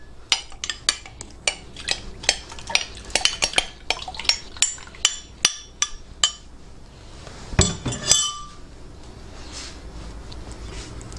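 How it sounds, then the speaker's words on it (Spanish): Metal utensils clink and tap repeatedly against a bowl while beaten eggs are stirred with milk for Spanish omelette muffins, a steady run of close, sharp clinks followed by a heavier knock and quieter stirring. "Y ahora echamos la leche en los huevos ya batidos."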